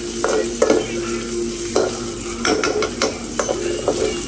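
Boiled chicken frying lightly in a pan, a soft sizzle under repeated clinking and scraping stir strokes that come in uneven bursts.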